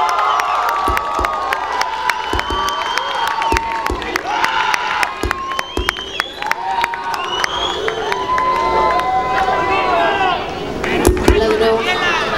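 A concert crowd at a symphonic metal tribute show applauds and cheers loudly, with sharp claps, whoops and shouts layered together, and a voice speaks over the noise.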